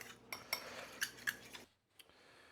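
A utensil mixing smoked fish with mustard, relish and red onion in a bowl: several sharp, close clinks and scrapes against the dish over about a second and a half, then near silence with one last faint tap.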